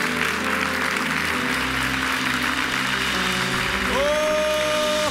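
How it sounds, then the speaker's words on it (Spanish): A church congregation applauds together at a worship service, a dense, steady wash of clapping that fills the space, with sustained music tones rising underneath toward the end. "den un aplauso fuerte al Rey de nuestra vida"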